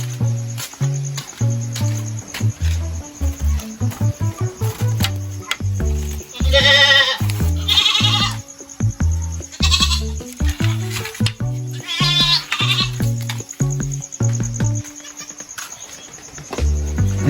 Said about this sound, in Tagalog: may narinig akong iyak ng kambing na maliit.